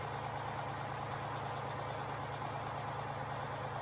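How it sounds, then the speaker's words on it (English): Kenworth day cab truck hauling a Schmitz cargo bull trailer in Farming Simulator 15, a steady low engine drone with a faint even hum, constant and fairly quiet. "we got the little Kenworth day cab with the Schmidt's cargo bull"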